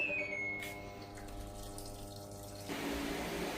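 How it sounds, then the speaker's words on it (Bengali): A washing machine running the final rinse of a load of clothes: steady rushing, splashing water throughout with faint tonal hum, changing character near the end, no voices. "লাস্ট ধোয়া, এই ধোয়া দিলে কাপড় ধোয়া শেষ হয়ে যাবে"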